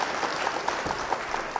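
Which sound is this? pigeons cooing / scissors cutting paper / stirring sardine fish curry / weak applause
weak applause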